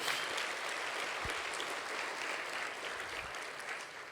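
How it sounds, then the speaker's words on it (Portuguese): A church congregation applauds during a sermon, a soft, even wash of many hands clapping heard faintly from a distance without a break. "dá um aplauso ao Senhor"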